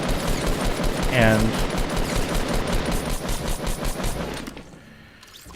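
Rapid automatic weapon fire in a Fortnite Battle Royale match, loud bursts of shots with a voice briefly speaking over them, fading to near quiet at the very end.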